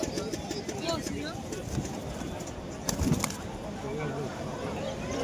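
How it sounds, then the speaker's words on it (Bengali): At an open-air pigeon market, birds coo in low repeated calls among talking traders, with a brief louder burst of activity midway. "হলুদ চোখ, নর কবুতর, সুন্দর ফেস বিউটি কবুতর"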